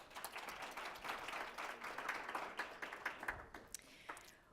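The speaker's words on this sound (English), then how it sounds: "Please give a round of applause." Audience at an embassy diplomatic panel in Washington, D.C. giving a round of applause, a soft, fairly distant patter of many hands clapping steadily for a few seconds with no talk over it.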